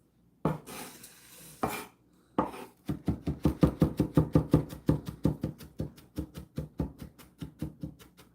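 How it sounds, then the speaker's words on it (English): Rapid rhythmic chopping of garlic with a knife on a board, a steady series of sharp close taps after a few scattered knocks, no talking. "Alright, garlic is minced."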